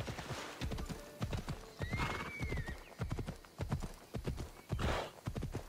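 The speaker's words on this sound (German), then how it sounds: "Ich brauche auf jeden Fall mein Pferd." Hoofbeats of a galloping horse in Assassin's Creed Odyssey pound in a steady rapid rhythm, with a shrill whinny rising above them midway, all loud and close against a busy game soundscape.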